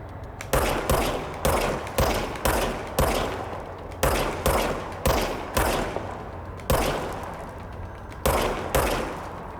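Handgun fire in the action game Control: a steady series of sharp, loud single shots, roughly one or two per second, each with a short decaying echo, close and alone with no talk.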